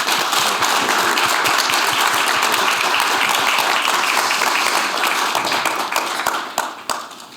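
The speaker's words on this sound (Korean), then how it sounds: "다시 한번 큰 박수로" A symposium audience gives a big round of applause to panelists at the close of a session, loud and sustained dense clapping that thins and fades toward the end.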